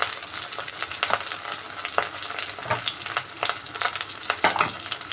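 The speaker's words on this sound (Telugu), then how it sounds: "కొద్దిగా కరివేపాకు ఒక నిమిషం ఫ్రై చేసుకుని" Curry leaves frying in a pan, a continuous close crackling sizzle with frequent stirring clicks and scrapes layered over it.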